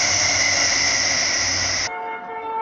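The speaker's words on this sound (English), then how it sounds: "Here comes train number 4 and 5." Passenger trains arriving at a station, a loud sustained two-tone horn blast held for nearly two seconds before cutting off, leaving a lower rumble of the train rolling in nearby.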